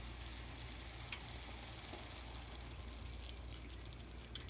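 Red wine poured into a pan of beef bolognese sauce sets off a steady, close hiss and sizzle, with faint liquid splashing throughout.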